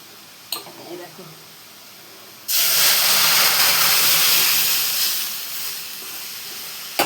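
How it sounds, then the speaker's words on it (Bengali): Hot oil hisses loudly as dal is tempered. The sharp, steady sizzle starts suddenly after a quiet moment with faint sounds and slowly eases toward the end, with some talking in the background. "তো চলো ডালটা সম্বরা দিয়ে নিই"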